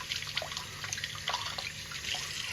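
Running tap water splashes over a small part from a 1970s lighter as it is rinsed, a steady, faint trickle and patter with small irregular splashes and no voices.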